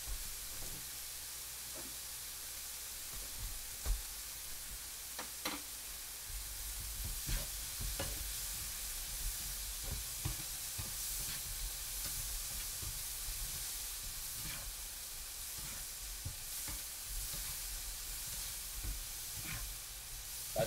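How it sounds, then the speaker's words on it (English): Polish sausage sizzles and spits steadily in a frying pan, a constant crackling hiss with occasional sharper pops, heard up close. "Now I'll have breakfast of fried Polish sausage and eggs."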